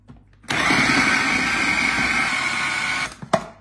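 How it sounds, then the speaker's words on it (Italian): A kitchen blender crushes a frozen granita block with a steady, loud whirring grind for about two and a half seconds, then cuts off, followed by a short clunk. "E ora cominciamo a frullare il tutto."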